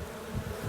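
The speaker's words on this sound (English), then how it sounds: "Wow, they're buzzing." Bees buzz inside a hive box with a screen, a brief close droning hum that swells slightly toward the end.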